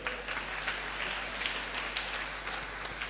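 A church congregation, with men standing up, claps together in a dense, continuous patter of applause that holds steady for a few seconds.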